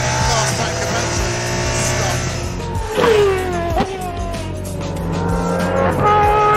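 An Aston Martin Valkyrie hypercar screams at high revs around a track, its engine note rising and falling through gear changes, with a sharp pass-by sweep midway and a loud, continuous roar throughout.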